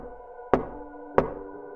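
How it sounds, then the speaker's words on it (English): Two sharp, solid knocks on a bedroom wall sound about half a second apart, each punchy with a short ringing decay, against quiet background. "and then the knocking started."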